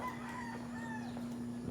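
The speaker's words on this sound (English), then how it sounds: "the chickens are awake." A rooster crowing faintly in the distance on an early morning walk in the Philippines, under a steady outdoor hum.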